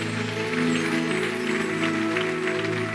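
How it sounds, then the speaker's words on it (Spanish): Loud, sustained applause fills a church service, a dense wash of clapping under steady low organ or keyboard tones that hold throughout. "Dale un aplauso fuerte."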